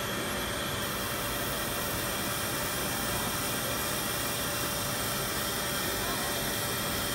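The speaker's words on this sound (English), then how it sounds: "We are opening our exhaust system, so it's a complete closed area. We are vacuuming and we start to cut." A jewelry laser cutter runs inside a closed, laser-protective enclosure at a trade-show demonstration, its exhaust vacuum system pulling air: a steady, loud whooshing hiss with a faint constant hum, unchanging throughout.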